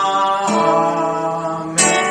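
An Amen cadence on guitar moving through sus4 and sus2 chords: two strums ringing and sustaining, close and clear, with no talking.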